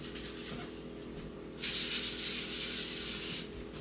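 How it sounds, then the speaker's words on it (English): A can of canola cooking oil spray sends a short, steady hiss onto a foil-lined baking pan in a small kitchen, a close burst of about two seconds over faint room noise. "I'm going to just spray my pan with some canola spray"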